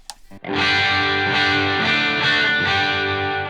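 A distorted electric guitar through a Hughes & Kettner Spirit of Vintage tube amp, sag set to zero, rings out loudly and sustains for a few seconds before cutting off, after a brief pick scrape.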